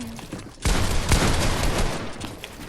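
Shotgun fire in the Fortnite video game: a loud, close blast bursts in after a quiet opening, followed by sustained dense gunfire and explosive noise that carries on to the end without pause.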